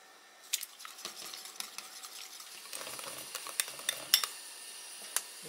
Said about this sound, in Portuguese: Vamos bater os ovos.